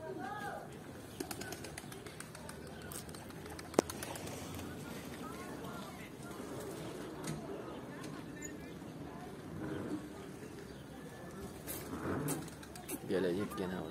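A pigeon coos softly amid outdoor background noise, with people talking nearby and occasional clicks and rustles.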